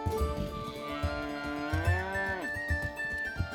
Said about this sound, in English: the cows don't really care about this. They just walk all over the place.